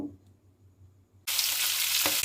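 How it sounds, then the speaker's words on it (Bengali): Potato and raw green banana pieces hit hot oil for a Bengali singi fish curry, bursting into a loud, steady, close sizzle after a quiet start, with a brief clatter near the end. "আলু আর কাঁচকলাটাকে হালকা ভেজে নেব।"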